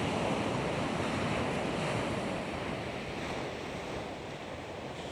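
Strong wind gusting over the ocean during a DJI Neo drone flight, a loud continuous roar of wind buffeting mixed with crashing surf, with no voices.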